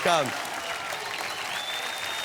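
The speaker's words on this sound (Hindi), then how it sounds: "तालियां, तालियां।" Studio audience applause on a Hindi TV game show, a continuous even wash of clapping opening with a brief sung note, lasting a couple of seconds.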